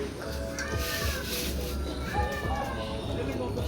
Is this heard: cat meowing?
yes